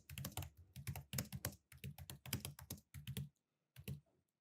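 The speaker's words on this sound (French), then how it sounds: "Si je commence à taper du français" Fast typing on a computer keyboard, clear close key clicks in dense bursts with brief pauses and a final short flurry after a gap, with no voices.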